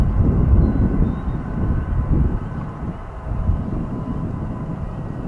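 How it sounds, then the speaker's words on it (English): A CSX freight train led by Canadian Pacific locomotives drones past with a low, steady rumbling roar and a winding mechanical whine, continuous and fairly loud, with no voices. "Almost sounds like dynamic braking."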